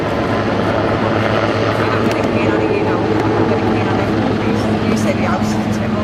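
A Westland Lynx naval helicopter climbs through a 360-degree manoeuvre at the 2014 Southport air show, its rotor and turbine giving a loud, continuous, steady drone throughout while an announcer talks over it.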